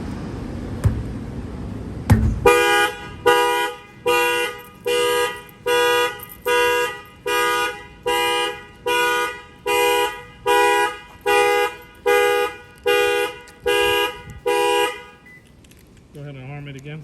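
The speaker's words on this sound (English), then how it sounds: "we added the shock sensor to the factory alarm. So if anybody bangs in the tires or whatnot, it will set off" A 2023 Toyota Camry factory alarm, set off by an added shock sensor when a tire is banged, blares in regular loud pulses, about fourteen in a row, after a couple of thumps at the start, then stops.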